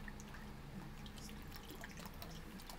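Chilled Blue Diamond vanilla almond milk pours in a soft, continuous trickling stream with faint dripping splashes, quiet and close throughout.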